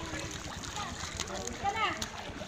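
Child diving and splashing into a river, soft splashes and sloshing water under steady nearby talk and background chatter, moderately faint outdoors.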